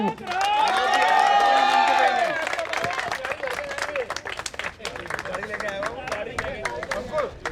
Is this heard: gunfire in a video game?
no